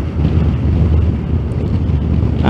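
Steady wind buffets the microphone during a Yamaha FJ motorcycle ride, a loud continuous low roar and rumble that holds through the whole stretch with no pauses.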